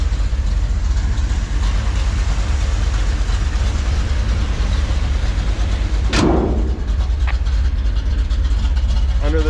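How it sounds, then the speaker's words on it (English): A Chevrolet C10 pickup with a new carburetor idles with a deep, steady, close rumble, broken briefly midway by a short rising whine. "That new carb has made a world of difference on this truck starting."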